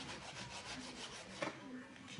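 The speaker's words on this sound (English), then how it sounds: "So I'm just kind of slicing this into some thin slices here." A knife slicing food into thin slices for a crock pot, heard as a close, continuous rasping cut with a sharper knock near the middle and no talk.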